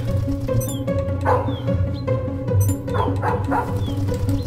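A herding dog in a video game gives a series of short yips and bow-wow barks over a steady game music bed, several calls in quick succession.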